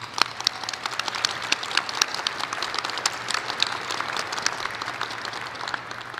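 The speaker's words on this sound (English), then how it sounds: "Let's give him a round of applause." Audience applause for a pianist at a university graduate commencement ceremony, many individual claps sharply audible in a lively, uneven patter that continues for several seconds.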